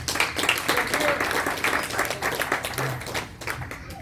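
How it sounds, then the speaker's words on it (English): An audience at an annual community education fundraiser in Chicago applauds, a steady wash of many hands clapping for several seconds with voices mixed underneath. "Round of applause."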